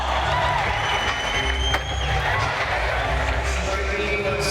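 Arena crowd at the Prudential Center in Newark, New Jersey, roaring and cheering during a street-league skateboarding final, a broad continuous swell of voices with scattered clapping and board noise, over a brief thump.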